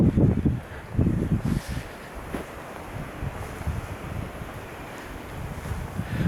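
Strong wind buffets the microphone at a low-lying, waterlogged moated site with massive earthworks in Cambridgeshire, rumbling in heavy gusts that are loudest early on and then settle into a steady roar.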